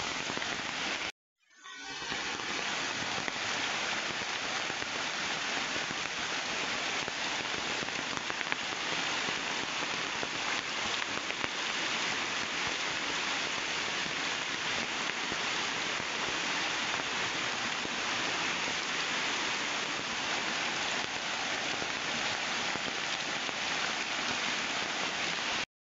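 Heavy monsoon rain pours steadily in the Malenadu region near the Aghanashini river, a dense, loud, unbroken roar of downpour that starts abruptly after a short gap and continues without pause.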